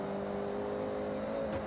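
A car engine in the racing game Forza Horizon 6 drones steadily under throttle, a close, even, humming tone with no other sounds.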